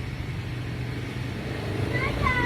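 A car engine idles nearby with a low, steady rumble, then rises slightly toward the end as it begins to rev.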